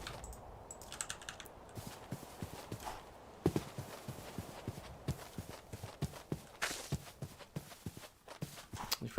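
Horse hooves clip-clop in the TerraFirmaCraft video game, an irregular run of quiet, sharp knocks spread over several seconds against faint background ambience.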